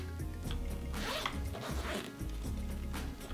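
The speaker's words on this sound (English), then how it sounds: "This U-shaped zipper, so that way when it's fully loaded, you can unzip it all the way" A backpack's front-pouch zipper is pulled open in a few quick, close rasping strokes, loud and clear with no talking over it.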